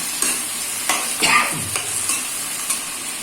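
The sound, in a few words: frying and stirring chicken meat in a pan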